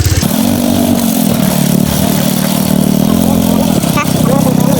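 A steady, droning motorcycle engine runs close by at a constant idle-like pitch, loud and continuous throughout.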